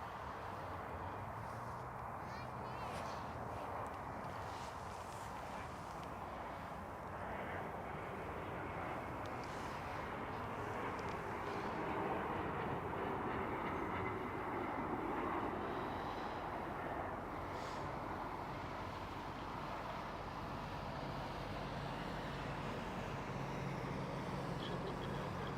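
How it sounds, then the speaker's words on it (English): Steady broadband aircraft and ground-vehicle rumble as an airliner is pushed back by a tug at Toronto Pearson airport, continuous and moderately distant with no speech. "It is moving via tug. The tug is pushing it."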